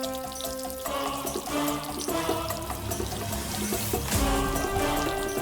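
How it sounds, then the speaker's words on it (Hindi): Water is poured onto a potted plant at home, a steady splashing pour running under loud background music for the whole stretch. "पौधे को पानी दे रही हूँ।"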